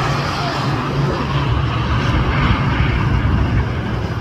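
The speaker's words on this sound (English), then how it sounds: "Flying out to Dubai, Emirates EK216 Super." An Emirates airliner on flight EK216 from LAX to Dubai roars steadily during takeoff, a loud broadband engine rumble heard from a distance outdoors.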